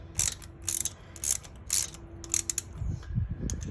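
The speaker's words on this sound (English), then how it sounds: "I'll just use a ratchet wrench for this." A ratchet wrench clicks in several quick bursts of sharp ratcheting while tightening a bolt on a gasket job, close and distinct, followed by softer handling sounds.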